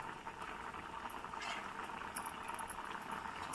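A pot of broad bean stew (guar bean pulusu) boiling, heard as a faint, continuous bubbling and popping simmer with small irregular blips, no talk.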